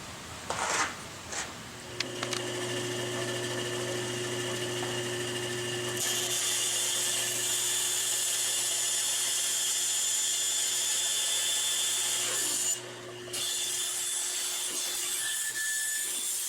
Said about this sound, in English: take this over to the bandsaw and cut it out